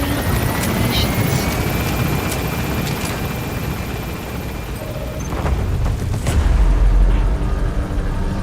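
A helicopter departing in the Metal Gear video game, loud continuous rotor roar that swells with a deep rumble toward the end.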